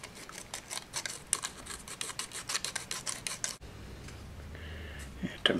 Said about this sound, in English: we'll just go around with a little bit of sandpaper and just take it down to the line